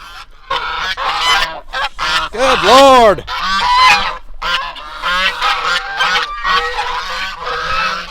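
Geese on a farm let out loud, close, repeated honks in a noisy burst, and a person exclaims briefly over them.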